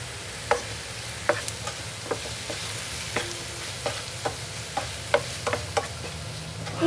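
Sandwich filling seasoned with black pepper, chilli flakes and oregano fries in a pan, a soft steady sizzle punctuated by regular sharp clicks and scrapes of a spatula stirring against the pan.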